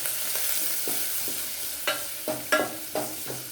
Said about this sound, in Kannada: ಸ್ವಲ್ಪ ಎಣ್ಣೆಯಲ್ಲಿ ಹುರ್ಕೋತಾ ಬರಬೇಕು.